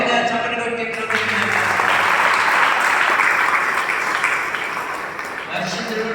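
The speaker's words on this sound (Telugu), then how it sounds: "గట్టిగా చప్పట్లు కొట్టి" A church congregation claps loudly and steadily in sustained applause, with a voice speaking over the clapping at the start and end.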